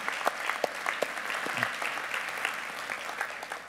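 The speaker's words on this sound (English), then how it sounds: "I'd give a big round of applause to all of you who've shown up here." Audience at a Plano mayoral forum applauds, a steady moderate patter of many hands with a few sharper claps standing out, fairly distant and even throughout.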